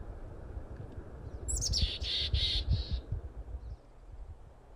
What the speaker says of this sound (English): This is a mountain chickadee, and you might recognize it from its iconic call where it says its name over and over again